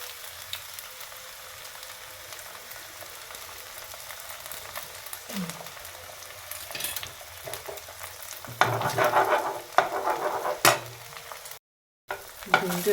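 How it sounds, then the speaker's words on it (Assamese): An egg fries in a pan with lai saag leaves while being stirred, a sizzling hiss under bursts of scraping spatula strokes, close and fairly loud, with no talk. "ডিমটো এনেকৈ লৰাই দিম"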